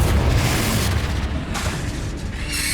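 Confringo fire-blast spell from Hogwarts Legacy, a dense rumbling boom with layered crackling bursts that stays loud and sustained throughout, no voices.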